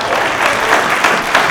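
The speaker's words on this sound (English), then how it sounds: "Give her a huge round of applause for her." A mentalist show audience bursts into dense, steady applause, a loud wash of many hands clapping close by that continues throughout the short stretch with a few louder swells.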